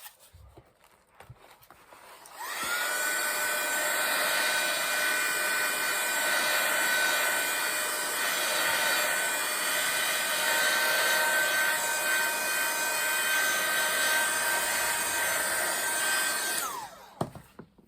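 A hair dryer dries paint on an art journal page: a steady, loud whooshing blast that runs for about fourteen seconds close by, with no talk, then cuts off with a faint click.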